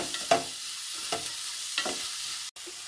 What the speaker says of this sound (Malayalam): ഇനി ഇത് നന്നായി ഒന്ന് ഇളക്കി നമുക്ക് ഉള്ളി ഒരു ബ്രൗൺ നിറാകുന്ന വരെ ഒന്ന് ഇളക്കി കൂട്ടിച്ചെടുക്കാം